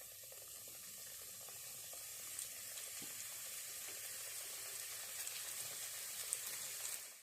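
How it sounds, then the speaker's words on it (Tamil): Somas, folded Tamil sweet pastries, frying in hot oil: a soft, continuous bubbling sizzle with faint crackles, steady and fairly quiet throughout. "எண்ணெய் காஞ்சிச்சு, சோமாசை உள்ளே போட்டுக்கலாம்"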